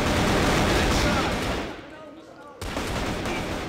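Gunfire in a CrossFire competitive esports match, with dense, loud bursts of rapid shots that briefly drop away before another sharp blast kicks in, heard under excited match commentary.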